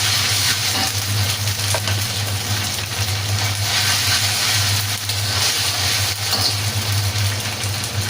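Ginger garlic paste fries in a hot pan, a steady, dense sizzle with a constant low hum underneath, loud and close, with no talking.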